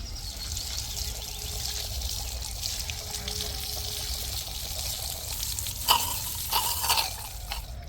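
Water pours and trickles steadily over calla lily tubers as they are rinsed, a continuous splashing wash with a few louder splashes and drips near the end.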